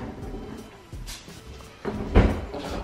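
A kitchen drawer in a model house slides and bumps shut with a couple of soft knocks, ending in one firmer thud, while people chat nearby.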